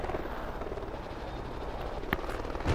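A helicopter in the video game Call of Duty Ghosts drones steadily with a whirring rotor at moderate volume, joined by a brief sharp game sound near the end.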